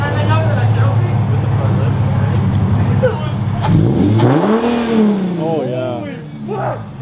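A Nissan G37 sedan with a cat-back exhaust and Motordyne Y-pipe idles loudly, then its engine revs up and falls back in a couple of swooping pulls, while people talk excitedly over it.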